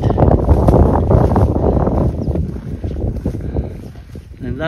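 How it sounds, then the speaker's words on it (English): Strong wind buffets the microphone outdoors near an old stone wall at a homestead, a loud steady rumbling roar throughout. It masks some faint background talk. "Oh, lots of wind."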